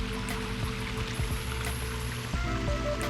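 Koi pond waterfall built from large Indiana rocks, water tumbling and splashing steadily over stone, a continuous bubbling rush with small drips and gurgles, close by with no voices.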